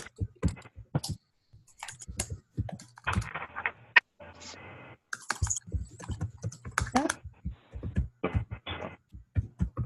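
Computer keyboard typing in bursts of quick clicks, moderately close, heard alongside a person talking during an online meeting.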